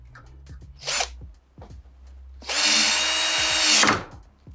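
A power drill drives the clamp screw tight on the rubber door seal of a Samsung washing machine, two close bursts of whirring, a short one then a longer sustained run, with no talking.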